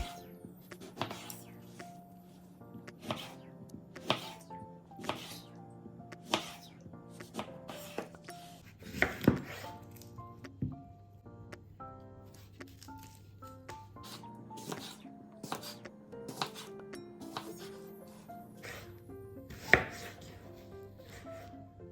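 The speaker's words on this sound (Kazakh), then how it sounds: "Апельсинді ортасынан екіге бөліп, барлық бөліктерін турап шығатын боламын." A knife slices an orange into pieces on a cutting board, making a steady series of crisp chopping taps. Soft background music plays underneath.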